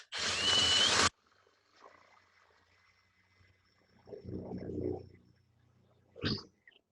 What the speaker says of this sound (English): I'm going to drill these 2 holes